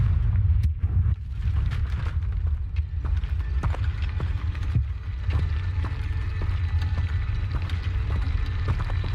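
Fiery Confringo blasting spell cast in Hogwarts Legacy, its bursts and booms landing over a steady, heavy low rumble of game ambience that runs throughout.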